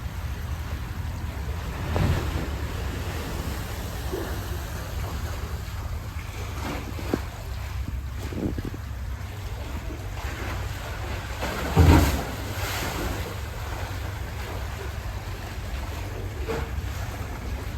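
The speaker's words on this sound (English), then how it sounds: "when the water rushes into the hole and crashes, it makes a very large sound of thunder" Ocean waves surging into the rocky inlet of Thunder Hole in Acadia National Park, a low continuous rumble with wind buffeting the microphone and one heavier crash standing out midway.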